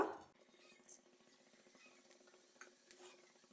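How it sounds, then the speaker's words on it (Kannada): Black pepper and cumin hit hot ghee with a brief burst, then settle into a faint, steady sizzle with light stirring and occasional soft clinks of a utensil against the pan, close by. "ಈಗ ತುಪ್ಪ ಬಿಸಿಯಾಗಿದೆ. ಈಗ ಇಲ್ಲಿ ಅರ್ಧ ಟೀ ಸ್ಪೂನು ಪೆಪ್ಪರ್ ತಗೊಂಡಿದ್ದೇನೆ, ಹಾಗೆ 1 ಟೀ ಸ್ಪೂನ್ ಜೀರಿಗೆ ತಗೊಂಡಿದ್ದೇನೆ, ಆ್ಯಡ್ ಮಾಡುವ"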